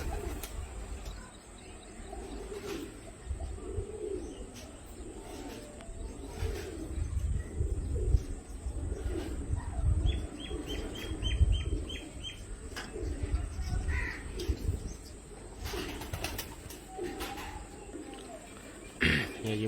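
Championship racing pigeons in a loft, cooing softly with some wing flapping and chirps over a steady murmur of background noise, with people talking nearby.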